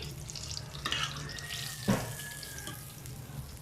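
Cooked food for beef cromesquis is drained in a kitchen sink, with steady running and splashing water and a few sharp clinks of a pan or utensil, close by and moderately loud.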